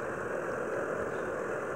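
Mercedes bus engine idling on a Rio city route, a steady low rumble heard up close with no talk over it.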